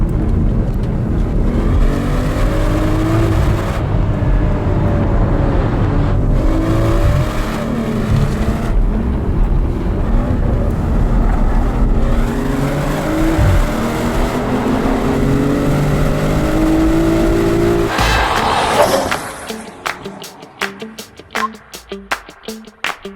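A BMW M440i Gran Coupe with all-wheel drive accelerates hard out of corners, its engine loud and rising in pitch, then cuts off sharply near the end, leaving sparse clicks and crackles.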